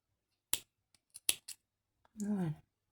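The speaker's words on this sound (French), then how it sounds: "on va couper les fils." Scissors snip through crochet yarn threads while finishing a handmade crochet keychain: a few sharp, close clicks in quick succession, followed by a brief voiced sound.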